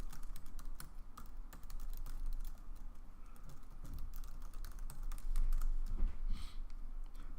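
A computer keyboard is typed on steadily for several seconds as a ticket description is entered, giving quiet, close, irregular key clicks with no voices.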